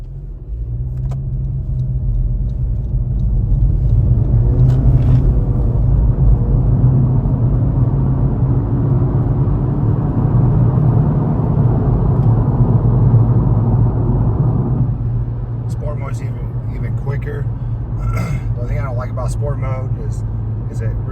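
A tuned car's engine droning in sport mode while driving, held at a steady high rpm with a loud, sustained rumble inside the cabin that eases slightly toward the end, while people talk over it.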